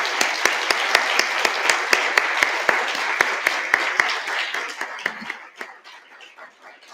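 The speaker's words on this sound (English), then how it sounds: "So I want to invite you to join me in a round of applause for these people." A conference audience at a coding theory plenary applauds the presenters, dense clapping from many hands that holds steady for several seconds and then thins out and fades.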